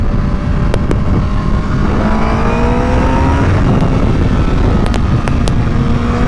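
Loud, close road traffic noise with car engines droning and vehicles passing by, a few sharp horn-like tones cutting through the steady roar.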